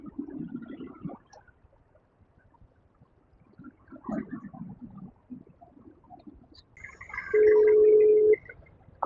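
A phone call rings out unanswered with a low buzzing ring pattern that repeats in spaced bursts, followed by a louder steady tone near the end, heard close as if through a handset speaker.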